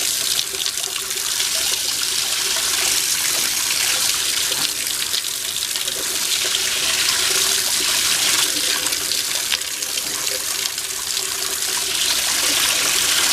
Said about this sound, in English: it reverses the flow of the water to start filling up your tank